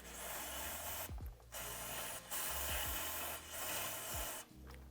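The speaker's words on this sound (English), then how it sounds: "I'm gonna pre-clean everything with a little contact cleaner" Contact cleaner hisses from an aerosol can in a steady broadband spray onto brake parts and the backing plate of a Honda Foreman ATV, sustained and close, broken by a few brief pauses and small clicks.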